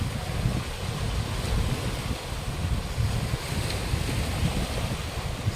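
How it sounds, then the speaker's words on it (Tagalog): Steady wind and rolling ocean surf at a shoreline with big waves, a continuous broad roar with no voices. "malalaki naman ang alon"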